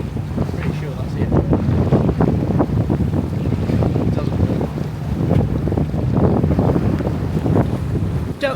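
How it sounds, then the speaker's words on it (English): Strong wind buffets the microphone aboard a sailing yacht, a steady loud rushing roar with low gusty rumble throughout, water faintly beneath. "the wind's got up a bit"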